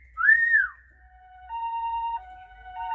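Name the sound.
ambulance siren sound effect on a Casio keyboard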